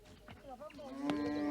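Cattle in a tropical herding setting give a drawn-out, close moo that rises into a steady low tone, with a narrator speaking over it.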